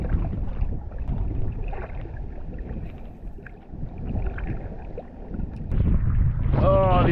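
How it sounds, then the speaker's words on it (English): Cold wind blowing off a lake buffets the microphone in a steady, loud low rumble, surging harder near the end while a voice calls out briefly over it. "That wind off that lake is cold."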